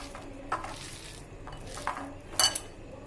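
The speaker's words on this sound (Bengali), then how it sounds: "ভালোভাবে মেখে নিচ্ছি" Soft squelching and scraping as leftover cooked rice mixture is mixed by hand in a bowl, with a few light clinks against the dish spread over several seconds, fairly quiet and without talk.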